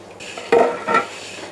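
A spoon stirs a ginger and pineapple marmalade mixture in a pan, giving two short scraping, sizzling strokes close by, alone and fairly quiet.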